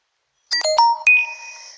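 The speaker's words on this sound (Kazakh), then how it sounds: "SMS келді міне" An SMS notification tone on a mobile phone after a Kaspi Gold card transfer: a bright, close melodic chime of several quick rising notes ending in a sustained ring that fades out, heard alone in silence.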